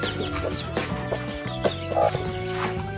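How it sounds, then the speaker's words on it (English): Chickens cluck on a small farm in a Kenyan village, with scattered clucks and a brief squawk over a steady bed of background music, heard fairly close. "See, he has chickens."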